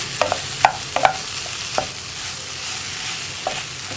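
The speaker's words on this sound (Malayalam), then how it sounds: "ഇതുപോലെ ഒന്ന് ഇളക്കി ഉടച്ചാൽ മതി" Breadfruit thoran being stirred and mashed in a pan, with a handful of short scraping and clinking spoon taps against a faint steady sizzle, close by and without speech.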